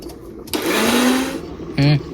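A mixer grinder grinds soaked Gobindobhog rice into a paste: a whirring motor burst rises and runs for nearly a second, then stops, followed by a shorter, louder, higher-pitched spin, recorded up close with no talking.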